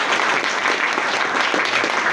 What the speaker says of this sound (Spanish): Démosle un aplauso, por favor, a nuestro invitado especial